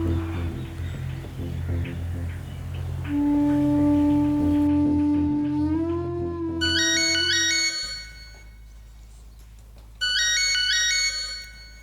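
Mobile phone ringtone chiming in a domestic TV drama scene as a call is dialed, a clear melodic tone pattern over background music, pausing then resuming with repeated bright electronic notes.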